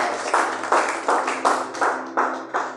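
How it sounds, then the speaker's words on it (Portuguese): A church congregation claps together in a steady, even rhythm. The loud claps come at regular intervals under a low, sustained hum. "Palmas para Jesus, irmão"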